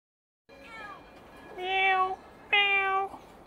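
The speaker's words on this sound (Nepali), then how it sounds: "तिनवटा बिराला रहेछ नि" Cats meow close by in a quiet spot, three distinct calls, the last two longer and louder than the first.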